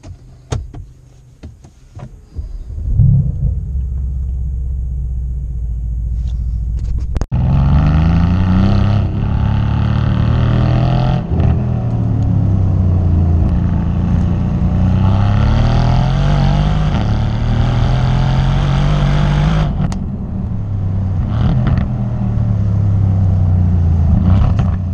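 A 2017 Mercedes-AMG C63 S coupe engine idles at first, then rumbles and revs loudly and close, rising and falling through several surges with no talking.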